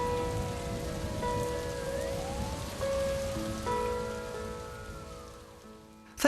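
Steady rain falls and patters on a surface throughout, with faint sustained tones drifting underneath.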